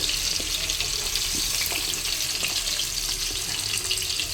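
Cubed onions sautéing in a pan with garlic and green chilli, giving a steady, close, even hiss of frying that runs throughout with no talk over it.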